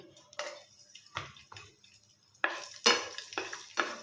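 Raisins frying in a pan while making carrot halwa, with spoon stirring and scraping against the metal in several bursts and a light sizzle between them, fairly close and without talk.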